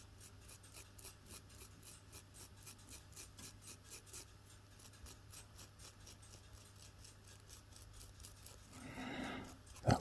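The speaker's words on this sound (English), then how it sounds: "let's give that groove a little bit of a wire brush using that brass wire brush" A brass wire brush scrubs the O-ring groove on a Suzuki TF185 motorbike in quick, even back-and-forth strokes, a faint rhythmic scratching that continues throughout and ends with a brief louder clatter.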